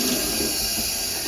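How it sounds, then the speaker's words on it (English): Cold tap water runs in a continuous, steady rushing stream while yarn is being rinsed during dyeing, close and unbroken with no talking. "This is just cold tap water."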